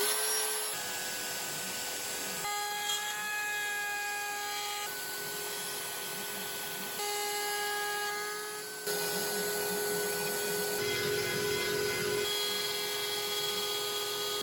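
A CNC router cuts a wood workpiece with a loud, steady high-pitched spindle whine and rough cutting noise. Brief shifts in pitch and load mark changes in the toolpath, and no one speaks.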